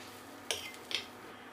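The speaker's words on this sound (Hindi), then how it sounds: "आलू मैश करते हुए फ्राई करेंगे।" Potatoes being mashed in a pan over medium flame, two brief utensil knocks against the pan above a soft, quiet background.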